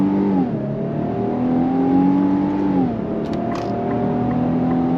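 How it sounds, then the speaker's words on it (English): 2025 Infiniti QX80 full-size luxury SUV pulling away from a dead stop under throttle, a steady engine drone that climbs in pitch, eases as a gear changes, then rises again, heard from inside the cabin. "we're gonna go on throttle from a dead stop"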